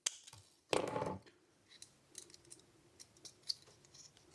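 Scissors snip a small strip of wire for tying a handmade spinnerbait, one sharp close cut followed by faint clicks and light handling noises.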